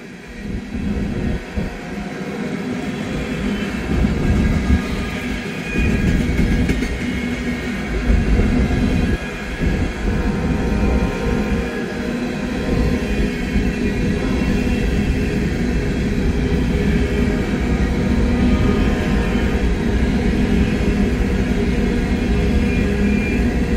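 A train rolls past in Hamilton, a steady loud rumble with clattering wheels and rail noise that stays strong and close throughout, with no talking.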